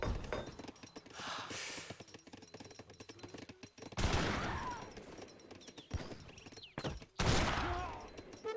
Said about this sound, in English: Villagers being gunned down, very nice.